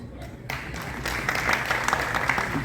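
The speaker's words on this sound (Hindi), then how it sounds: "तालियां बजा के स्वागत करते हैं।" An audience at an honors ceremony and folk festival claps to welcome guests; after a brief quiet start, a lively burst of many hands rises and keeps going, close and full.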